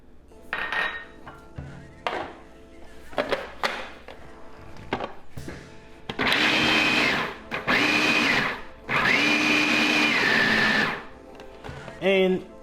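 A food processor pulses a falafel mixture with lemon peel and seasoning. Early clatter and handling noises give way to three loud, sustained whirring bursts separated by short pauses, with a brief rattle at the end.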